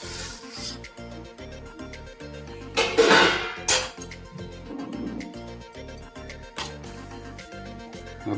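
Noodles being cooked with masala in water get stirred in a pan, giving scraping clinks and a few louder metallic knocks, close up over a steady rhythmic background hum.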